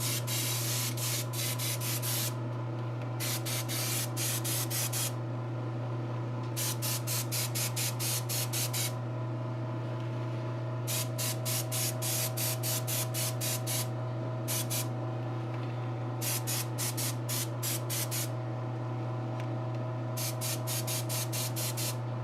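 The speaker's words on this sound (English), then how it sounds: "But I'm going to spray far away." Aerosol spray paint hisses in short repeated bursts separated by brief pauses, sprayed from a distance onto a custom figure outfit, over a constant low hum.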